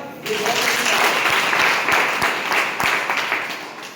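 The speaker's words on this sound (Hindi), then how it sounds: "जोरदार तालियां" Hearty applause from an audience at an Ayurveda product presentation, a dense burst of clapping rising at the start and holding steady, with some sharp individual claps standing out and a voice faintly underneath.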